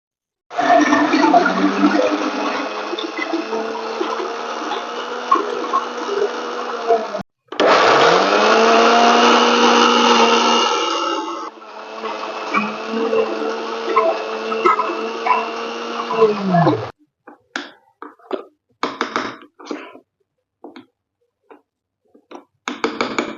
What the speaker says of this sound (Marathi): आता आपल्याला याच्यात पाणी न घालता आपल्याला मिक्सर करायचे आहे